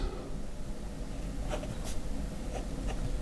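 A Jinhao 159 fountain pen with an unposted medium nib scratches softly across paper, with quiet continuous strokes and a few crisper ticks, close and faint with no speech.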